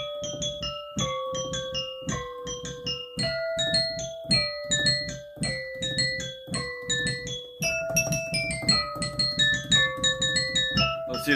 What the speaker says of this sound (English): And now we can play Carol of the Bells.